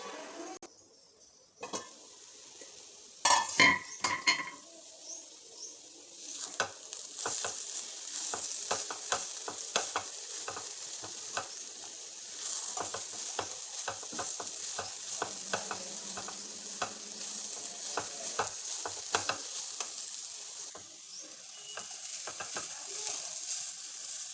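Carrot pieces sizzle steadily in a pan while a utensil stirs and scrapes against it in repeated close strokes, with a few louder knocks near the start and no talking.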